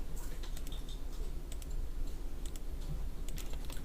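Fast, quiet keyboard typing while entering commands in a CAD drawing program, with irregular clusters of light key clicks over soft background noise.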